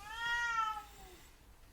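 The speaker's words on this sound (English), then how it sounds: "that is a cat." A cat gives a single clear, drawn-out meow with a falling pitch, fairly close and alone, fading into quiet background afterward.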